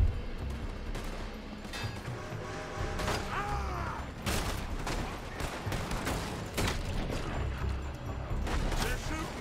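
Gunshots from the video game Red Dead Redemption 2 crack out in irregular bursts over steady game noise and mechanical clatter, some shots sharp and close, others more distant, with a voice speaking at points.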